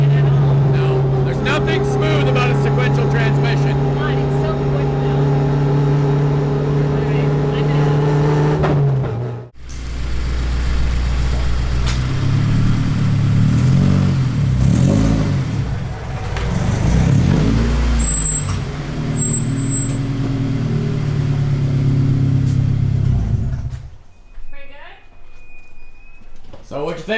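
A car with a sequential transmission accelerates hard through abrupt, quick gear shifts. Loud engine harmonics climb, cut off and rise again, with the revving and shifting close and dominant while people talk over it.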